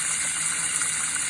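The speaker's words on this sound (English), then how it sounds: "the water is draining just about as fast as it comes in" Water from a sink tap pours steadily down a freshly cleared drain, a continuous broadband gush at constant loudness with no voices.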